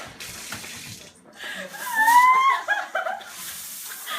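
Cold water poured over a person as a punishment, a gushing splash that swells to a loud peak mid-clip and then tapers off, with faint laughter around it.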